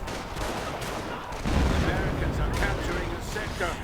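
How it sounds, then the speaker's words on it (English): Howitzer artillery fires in a video game battle, with heavy booms and rumbling blasts mixed with scattered gunfire, building into a denser barrage midway. "More howitzer fire."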